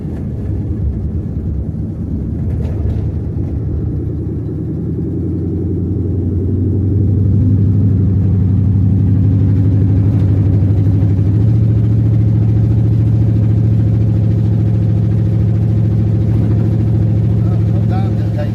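A car engine with a throttle position sensor fault rumbles at idle, then swells into a louder, sustained revving drone that holds steady for several seconds, close and continuous with no voices.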